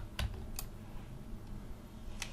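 Keyboard key presses while animating a camera in Maya: a few separate, sharp clicks with a quiet gap between them, faint and close, over a low steady hum.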